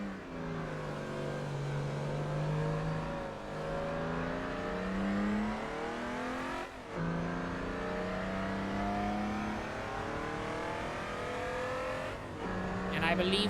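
BMW race car engine in a racing video game, a steady droning whine with rising and falling pitch sweeps as the car accelerates and shifts, continuous and fairly loud, with brief dips at gear changes.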